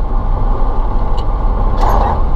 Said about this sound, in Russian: Антоновский лесовоз встрял. Ямбургский подъем.